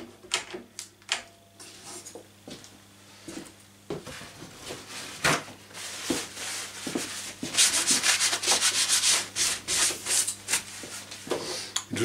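A part is sanded by hand with brisk, irregular rubbing strokes, quiet and scattered at first, then denser and louder toward the end.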